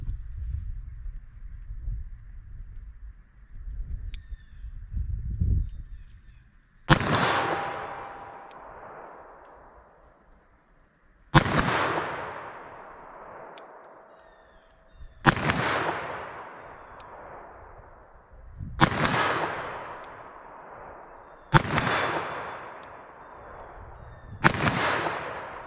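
Six loud, sharp .357 Magnum revolver shots from a 4-inch barrel firing light Winchester 110 gr loads outdoors, spaced several seconds apart, each with a long ringing decay, after a stretch of quieter low rumbling.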